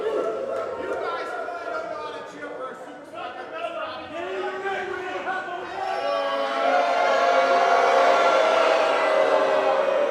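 A wrestling crowd at a Superstars of Wrestling match cheers and chants for Channing Thomas, a rising roar of many voices growing louder toward the end, with a commentator talking over it.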